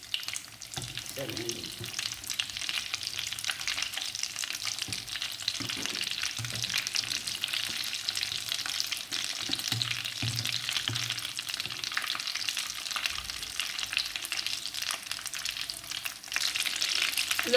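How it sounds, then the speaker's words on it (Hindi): Potato egg cutlets fry in a pan with a dense, continuous sizzle and crackle, steady throughout, with a few clinks and a brief spoken word from a nearby voice. "ये 2 से 4 मिनट में अच्छे फ्राई हो जाएंगे"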